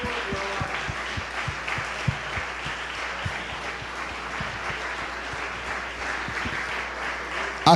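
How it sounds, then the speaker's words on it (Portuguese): A church congregation applauds steadily and fairly close, a dense continuous wash of clapping with a few sharper individual claps, and faint voices underneath. "vamos aplaudir a esta palavra, vamos aplaudir ao nosso Deus"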